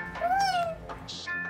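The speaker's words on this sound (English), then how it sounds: "my kitten is falling." A kitten gives a couple of short, close, high meows, with a faint background tone.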